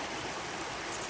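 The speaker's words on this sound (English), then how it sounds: "The one who encountered the cooling waters of the flowing creek" Flowing creek water at Bothe State Park, a steady broadband rush with no pauses, close and fairly loud, with no voices.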